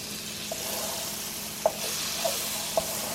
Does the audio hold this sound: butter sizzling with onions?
yes